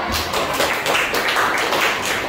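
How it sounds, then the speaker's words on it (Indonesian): A class in a regional-language lesson claps for a student group. The rapid, close clapping is dense and continuous, with sharp hand slaps that carry through the whole short burst. "Oke, baik kita beri dulu tepuk tangan ke kelompok 2."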